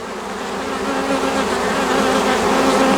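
A swarm of honeybees clustering around their queen on the branch of a young apple tree, a dense, steady buzzing drone close by that swells slightly louder over three seconds, with no voices.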